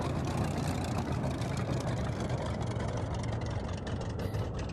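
Spitfire fighter engine in a VR flight game, a dense continuous broadband roar with a low rumbling drone, steady and close throughout with no talk.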